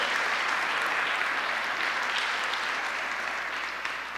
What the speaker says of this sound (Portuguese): Você pode aplaudir a Jesus, amados? Faça isso.